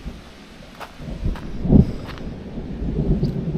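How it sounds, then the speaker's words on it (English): Thunder rumbles in the background during a cycling trip along the River Danube between Passau and Vienna, a low, soft roll swelling near the middle under steady outdoor noise and a few light clicks. "Bit of thunder in the background."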